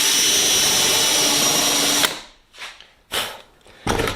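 Power drill countersinking a rivet hole in aircraft rib parts, a loud continuous whine for two seconds, then stopping, followed by three short bursts of the drill.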